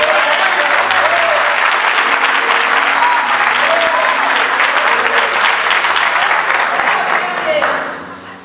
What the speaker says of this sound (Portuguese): aplaude mais forte, aplaude mais forte